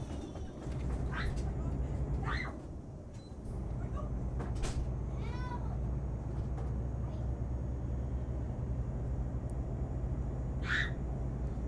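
Short cat meows over a steady engine hum, several brief cries in the first half and one more near the end, with a knock or door sound around the middle.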